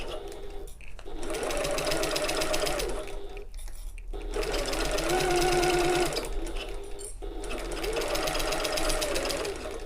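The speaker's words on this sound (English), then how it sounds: "I'm just going to whiz across the top here from the other direction, I think, with my long basting stitch" A sewing machine runs a long basting stitch across the top of a layered shoulder bag, a loud, fast steady whir in three bursts separated by short pauses.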